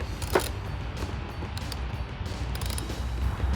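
A socket ratchet tightens Torx bolts on a RedRock pocket-style fender flare on a 2004-2008 Ford F-150, giving a close, steady run of small mechanical clicks and creaks at a moderate level with no talking.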